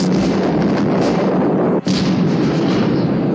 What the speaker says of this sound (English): You don't want to know how much money I spent on those fireworks, right?